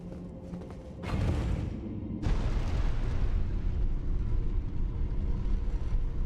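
Booming cannon shells fired by a dragon-like imp spirit in Elden Ring, with two heavy blasts followed by a sustained loud rumbling roar, no voices.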